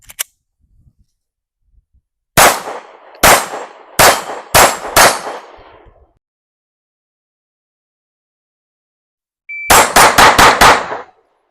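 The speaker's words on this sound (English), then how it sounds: "5 more rounds of Spear Gold Dots on the steel plates here" A PSA Dagger pistol fires Speer Gold Dot rounds at steel plates: a lone early shot, then five sharp reports in a quick uneven string, a pause, and another rapid burst of about six, each crack loud and close with a brief ring.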